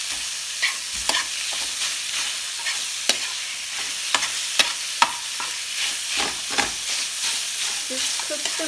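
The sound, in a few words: meat frying for Lao ramen noodle stir fry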